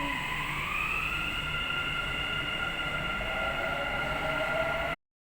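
A train pulling out of a station platform, a steady rumble with rising whining tones that hold for about five seconds before cutting off abruptly.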